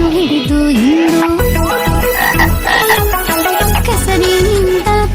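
A frog croaks loudly and repeatedly in quick rhythmic pulses, close and dominant, with a tonal sung melody running alongside it.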